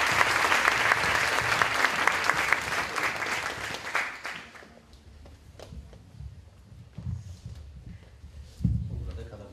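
An audience at a diction and public speaking training event bursts into loud, dense applause for a guest welcomed to the stage, then it fades after about four seconds into scattered claps and shuffling.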